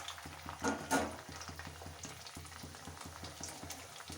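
Cauliflower that was fried once goes back into a wok of hot oil to crisp, giving a steady close bubbling fry with a faint periodic mechanical hum underneath and occasional louder crackling spurts.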